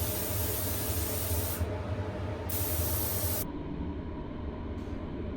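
Spray gun laying a silver base coat onto a motorcycle fuel tank: a close, steady airy hiss in bursts, with short breaks between passes and a quieter hiss toward the end.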